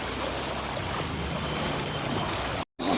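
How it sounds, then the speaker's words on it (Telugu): Strong floodwater rushing through a Hyderabad street after rain, a steady loud broadband roar of moving water throughout, cutting out briefly near the end before returning. "చాలా ఫోర్స్గా వస్తున్నాయి వాటర్."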